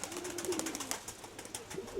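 Pigeons coo softly in a low, murmuring rumble, faint and somewhat distant, repeating several times over steady background noise with no voices.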